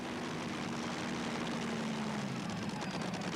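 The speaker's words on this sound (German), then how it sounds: "Zwei an der Zahl Shackleton Motoren" A tractor-pulling machine powered by two Shackleton bomber aircraft engines roars at a pulling event, a loud continuous piston-engine drone with a steady low hum that holds throughout.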